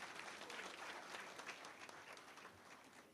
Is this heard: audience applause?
yes